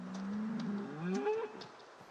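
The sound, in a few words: cow mooing in a video game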